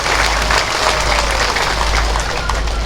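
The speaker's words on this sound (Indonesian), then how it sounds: "Tepuk tangan lagi untuk beliau ya." A crowd at an Indonesian land certificate ceremony applauds the regent, loud, dense clapping that runs continuously and evenly throughout with no speech over it.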